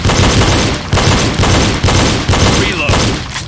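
Rapid pistol fire during a reload shooting drill, loud close bursts of shots repeating in quick clusters about every half second across the clip, hard and echoing.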